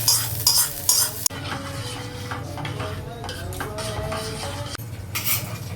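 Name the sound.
stirring ghee-fried vermicelli into milk in a pot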